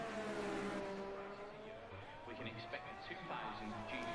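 An F1 race car from a video game, the Mexico Grand Prix in an esports series, whines through the final turns, its engine pitch rising and falling over crowd-like background. Commentary runs over it throughout.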